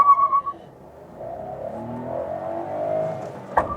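Citroën C3 Feel 1.0 2023 accelerating from 0 to 100 km/h with air conditioning on, engine rising in pitch as it revs through the gear, a short tone at the start and a click near the end.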